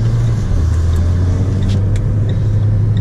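A Renault Clio RS Trophy idles with its exhaust giving a steady low rumble, close and even in level, with faint higher noise over it and no speech.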